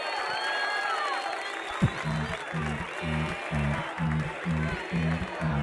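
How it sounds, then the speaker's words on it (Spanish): Crowd applause and cheering at a freestyle rap battle tournament final, a roomful of clapping with a rhythmic thumping beat entering partway through, loud and continuous. "Un fuerte aplauso para estos tres"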